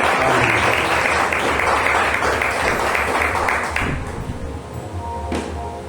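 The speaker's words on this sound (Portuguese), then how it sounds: "Pode sentar, aplaudir ao Senhor." A church congregation at a Sunday service breaks into loud, full applause that carries on strongly, then thins and fades over the last couple of seconds, with a faint tap near the end.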